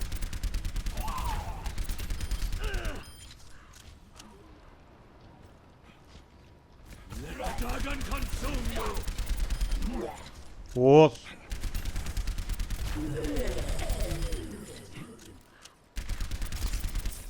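Soldier 76 fires his rifle in the Overwatch video game during a Halloween Terror match. Bursts of rapid gunfire come in stretches at moderate loudness, with gaps between bursts and other game sounds mixed in.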